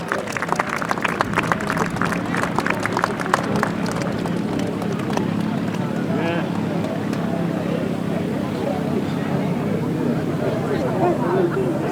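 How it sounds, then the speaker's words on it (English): A crowd at a British grasstrack motorcycle racing meeting claps in a dense, sustained round of applause, loud at first and thinning slightly, with babble and an announcer's amplified voice mixed in. "ladies and gentlemen, give them a big round of applause"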